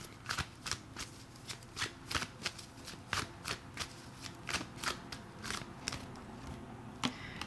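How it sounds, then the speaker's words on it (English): Tarot cards are shuffled and drawn by hand, giving a quiet, close run of soft riffling flicks and papery slaps in an uneven rhythm, with no one speaking. "Let's pull another card here."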